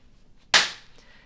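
A single sharp hand clap in a home kitchen after baking chocolate chip cookies, loud and close, with a quick bright decay into near silence.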